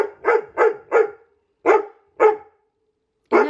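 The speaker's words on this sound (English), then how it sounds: "So I apologize for my dog eating in the background." Indoors, a dog barks six times nearby, in a quick run of three, then two spaced single barks and one more after a pause, each short, sharp and loud against an otherwise silent room.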